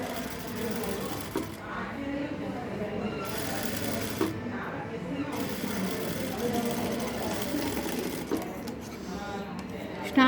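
A sewing machine stitches a blouse, its rapid mechanical chatter running almost continuously with brief pauses, close and clear while someone talks over it.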